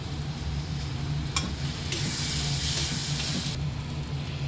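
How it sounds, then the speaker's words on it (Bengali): Fish kadahi masala sizzles steadily in a pan while it is stirred, a close continuous hiss with faint scraping and a brief clink early on, no voices. "এবার এটাকে নাড়িয়ে চাড়িয়ে নিই যতক্ষণ না এটা থেকে তেল বেরোচ্ছে।"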